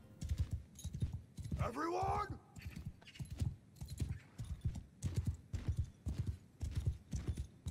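Steady clip-clop of horse hooves in the Mount & Blade II: Bannerlord video game, a brisk even rhythm running throughout, with a horse whinny rising briefly near the two-second mark; someone talks quietly in the background.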